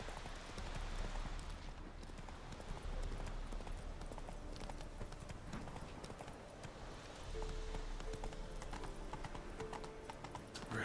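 Roach, a horse in The Witcher 3, trots along with steady rhythmic clip-clop hoofbeats, close and continuous under a faint ambient game background.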